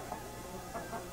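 A rooster at a cockfight gives a few short, soft clucks, faint and muffled over a steady hiss in an old 1948 film soundtrack.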